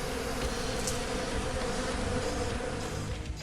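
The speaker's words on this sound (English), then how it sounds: "the giant bipedal hive dissolves into a massive swarm of bees that pours down one of the many cracks in the ground" A massive swarm of bees droning in a dense, steady buzz that fills the space, loud and continuous without pause, with no voices over it.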